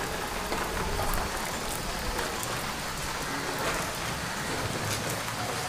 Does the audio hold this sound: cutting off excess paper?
no